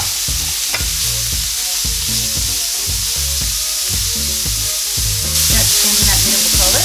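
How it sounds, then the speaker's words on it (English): Carne asada sizzles loudly on a griddle with onions, cilantro and its rendered juices, a dense continuous frying hiss with rhythmic scraping and stirring from a spatula close by. "We're just gonna put this right back on the grill with the onions and the cilantro and the juices that it rendered."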